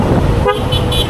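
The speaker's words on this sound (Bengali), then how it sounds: "মাঝে মধ্যে খারাপ লাগলেও হর্ন দিতে হয়" A short vehicle horn toot sounds about halfway through a night road ride, over loud, steady road and wind rumble.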